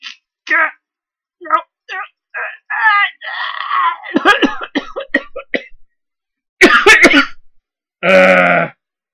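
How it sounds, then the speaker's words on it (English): A few harsh coughs burst out near the end, following a stretch of strained, moaning vocal sounds and exclamations. "Sorry about that cough"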